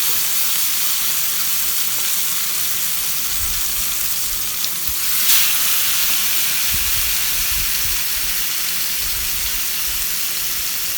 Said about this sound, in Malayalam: നമ്മളിപ്പോൾ അത് ഇട്ട് കൊടുക്കാണ്ട് നന്നായിട്ട് പൊരിച്ചെടുക്കണം